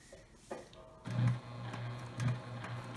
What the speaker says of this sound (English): Here we go, we're at the sewing machine